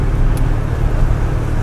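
A Chevrolet Corvette with a 5.7-litre V8 idles in a garage, giving a steady, close, deep rumble that holds evenly throughout with no voices.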